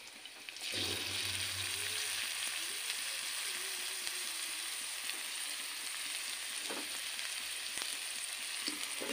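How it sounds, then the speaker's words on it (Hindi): Onions frying in hot oil with green chillies for Manchurian momos: a steady, dense sizzle close by, with no talk and only a few faint stirring taps. "प्याज को थोड़ा जलने दें।"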